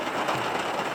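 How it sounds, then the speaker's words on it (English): Rain falling steadily on a hiking camp during a seven-peak mountain challenge, a dense, even hiss of drops pattering close by with no voices. "It's been raining for the last probably 90 minutes or so."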